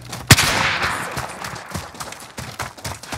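Gunfire in the Call of Duty Warzone video game on the Fortune's Keep Resurgence map: one loud sharp shot, then a rapid scatter of fainter shots and impacts across a dense, noisy battle background.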